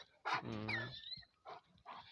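A dog gives a close whining yelp followed by a few shorter quieter vocal bursts during a family outdoor survival camp.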